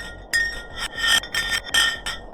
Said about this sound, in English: they decided to drop some ice to the bottom of the hole to see what would happen next